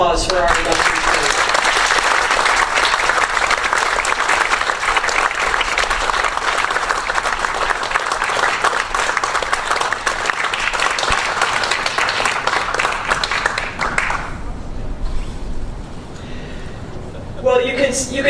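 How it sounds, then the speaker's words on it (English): A large audience at a 2015 athletics Hall of Honor induction ceremony applauds the induction crew in long, loud, sustained clapping that fades out near the end before a brief burst of sound returns. "Could I have another round of applause for our induction crew?"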